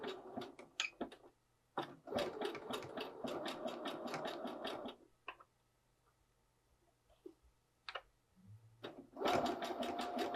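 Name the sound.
sewing machine stitching a seam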